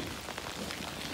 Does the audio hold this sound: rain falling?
yes